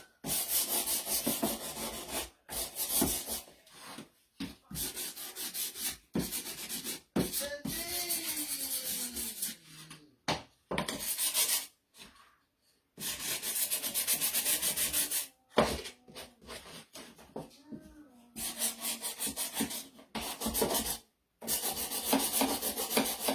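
Hand sanding a thrifted wooden spoon holder, with steady close scrubbing strokes in bursts broken by short pauses, no talking.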